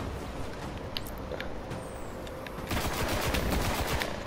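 Rapid gunfire crackles in the video game Destiny, a scatter of sharp shots at moderate loudness that grows denser and louder in the second half.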